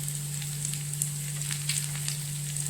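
Mushroom manchurian sauce sizzling in a pan as it is stirred, a steady close frying hiss with light scraping taps, no voices.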